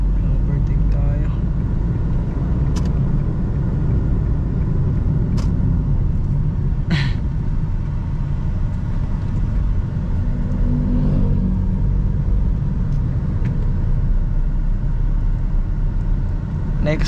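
A Hyundai Accent CRDi diesel with manual transmission overtakes with a loud, steady low engine rumble and road noise heard from inside the cabin, constant throughout with a few faint clicks.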